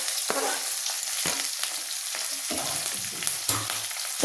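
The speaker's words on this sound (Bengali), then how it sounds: "এবারে দিচ্ছি কয়েকটা কারি পাতা, দিয়ে দিচ্ছি কেটে রাখা পেঁয়াজ আর কাঁচা লঙ্কা" Curry leaves, chopped onion and green chilli hit hot oil in a pan for semolina upma, giving a steady close sizzle and frying crackle broken by several sharp stirring scrapes.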